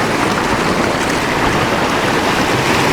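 Loud, constant wash of ocean water lapping along a shallow Hawaiian reef shoreline at night, a dense unbroken hiss and splash with no voices.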